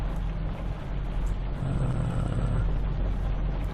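A tractor engine in the Farming Simulator 25 video game runs at a steady, loud drone with a low rumble throughout, and a voice briefly speaks over it.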